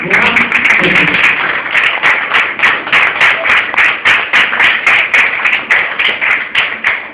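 A church congregation claps together in a steady, fast rhythm, loud and close, with a crowd murmur beneath the repeated beats.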